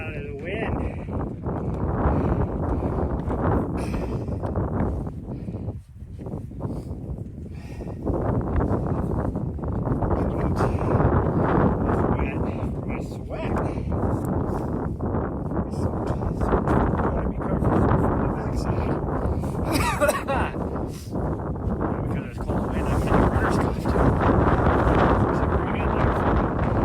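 Wind gusting over a microphone on an outdoor running trail after a run, a steady loud low rumble that persists throughout with brief dips, while a person talks over it.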